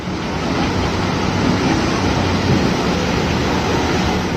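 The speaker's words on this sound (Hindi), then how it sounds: "गंगा का शोर अब दूर से ही सुनाई देता है।" The Ganges river at Prayagraj rushes with a steady, broad roar that stays loud and unbroken throughout, with no voices.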